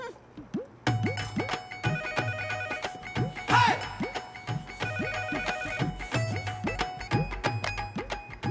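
A telephone rings repeatedly in a home during a Punjabi comedy film scene, a steady electronic ringtone pattern cycling loudly for several seconds with no talk over it.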